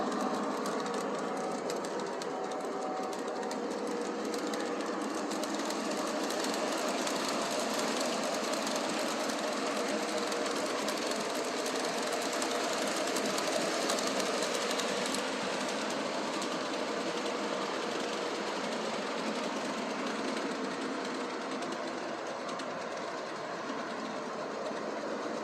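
A model train locomotive runs steadily on its track, giving a continuous mechanical whir and rattle that stays even and moderately close throughout.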